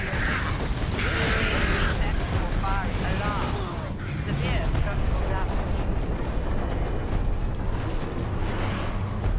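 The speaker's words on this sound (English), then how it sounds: "Better off seeing this fortress detonate from its outside." Massive, continuous rumbling detonation of a fortress in Warhammer 40,000: Space Marine, a dense roaring eruption with creaks and debris that holds loud throughout, with speech layered on top.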